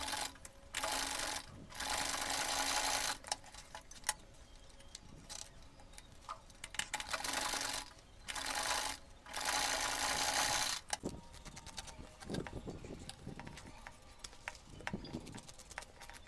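A sewing machine stitches Ankara fabric cap pieces together in several short bursts of fast whirring, separated by pauses filled with quiet ticking handling noises, all up close.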